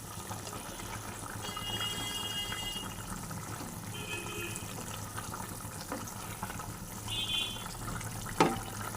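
Flour slurry poured into a simmering pabda fish curry with eggplant in a pan, a steady low bubbling and liquid sizzle running throughout, faint and close, with a small clink near the end.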